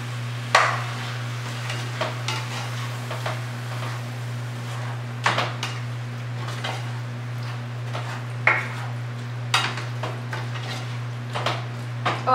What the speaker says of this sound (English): And you're gonna mix that around.